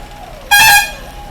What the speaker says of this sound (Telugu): ఇదే అండి టిఆర్ఎల్ బస్సు వెళ్ళిపోతున్నా అండి